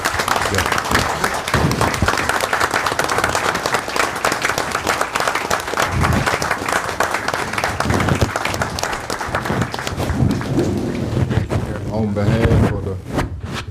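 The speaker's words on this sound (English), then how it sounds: "Let's give them a round of applause." An audience at a county commission meeting applauds club leaders with steady, dense clapping that fills the room for over ten seconds, then a voice begins speaking as it tapers off.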